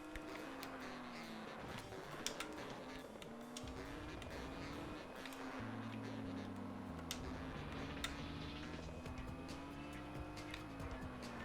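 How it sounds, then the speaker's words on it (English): Racing car engine in the video game Speed Devils, a continuous whining drone with rising and falling pitch as the car accelerates with nitrous boost, joined by occasional ticks and tire noise, steady and fairly quiet. "I'm basically constantly doing nitrous."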